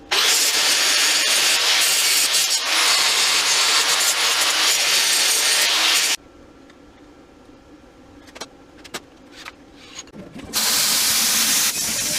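Metal body mount pieces for a 1978 Jeep CJ5 being cut one after another, a loud, harsh continuous grinding-saw roar for about six seconds, then a quieter gap with a few clicks before the cutting roar resumes near the end.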